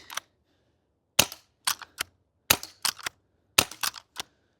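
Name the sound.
G&G LevAR airsoft lever action rifle firing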